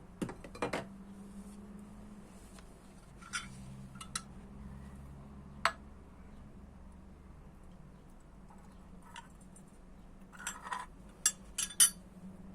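A glass jar clinks and taps a few times while being handled and filled in a quiet kitchen, with soft scattered knocks and a low steady hum underneath.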